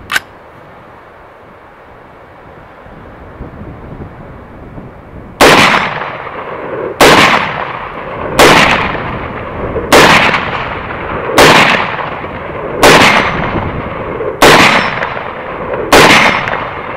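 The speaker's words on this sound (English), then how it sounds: "So I've got 20 shots here and just a steel target down range. So let's give them a shot and see how they function." .300 Blackout rifle shots hit a steel target downrange. Nine loud, evenly spaced reports each ring out and decay, following a quiet stretch.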